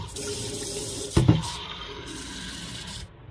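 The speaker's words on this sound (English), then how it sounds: "I drink the water directly from the filter." Water runs from a drinking water filter, a soft continuous trickle with a brief louder splash and rattle partway through, then the flow cuts off near the end.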